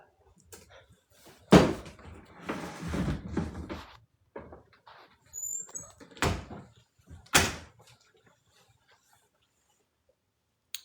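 Indoors at home, a door bangs and thuds in a few sharp separate knocks, with rustling and shuffling between them and quiet gaps, and brief low voices.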